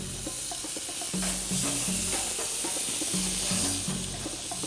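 Veal chops sizzle and fry steadily on V-shaped grill grates, a continuous close hiss with a few soft metallic clinks and scrapes of handling.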